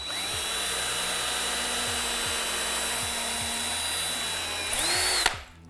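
A power drill drives screws into a wooden kids' step ladder, a loud close whirring motor run lasting several seconds that winds down abruptly, with faint rhythmic creaks from the wood underneath.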